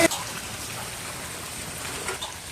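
Heavy rain falls in a steady, dense hiss of drops and splashing water, continuous and fairly close, with a brief louder splash at the start.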